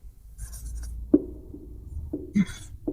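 Pen or chalk writing out an equation in a maths lesson: a few short scratching and tapping strokes, close and fairly quiet, with no talking.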